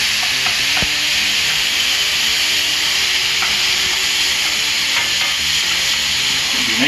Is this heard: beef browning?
yes